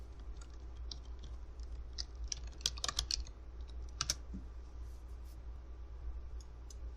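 A computer keyboard is typed on in quick, irregular bursts of light clicks, close and fairly soft over a low steady hum, with no talking.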